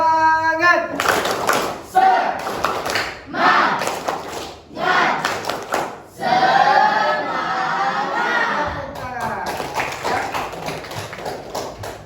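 A classroom in an Indonesian lesson performs a spirit clap, bursts of rhythmic group clapping in patterned sequences with brief pauses between, loud and close, with some voices mixed in.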